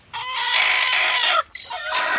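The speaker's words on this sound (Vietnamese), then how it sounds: "Đây, đây là gà ấp các bạn này." A brooding hen sitting on a clutch of duck eggs clucks repeatedly up close, a steady run of loud clucks with a brief pause partway through.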